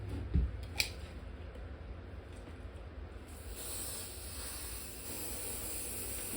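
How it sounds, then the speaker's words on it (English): Hair holding spray hisses onto a ponytail in a quiet hiss that carries on for several seconds, following a couple of soft clicks. "you're going to add some more holding spray."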